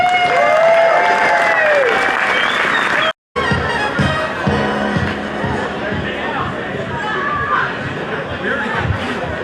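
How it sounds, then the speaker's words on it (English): A crowd at a hammock gathering gives a big round of applause for raffle donors and vendors, loud sustained clapping with cheers and chatter, briefly cut out, then continuing amid crowd noise and voices. "Let's give them a big round of applause."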